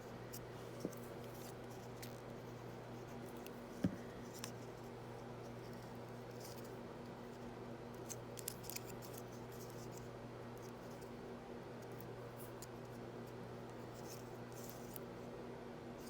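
Quiet snipping and crisp rustles of scissors cutting paper, faint and intermittent over a low steady hum.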